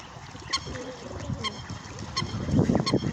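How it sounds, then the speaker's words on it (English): Canada geese honk outdoors in repeated sharp calls about once a second, mixed with lower clucking and quacks from nearby ducks, a busy flock heard at moderate distance. "Canada goose,"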